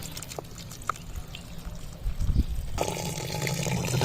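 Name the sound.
water being poured into a pot for beef and onion recipe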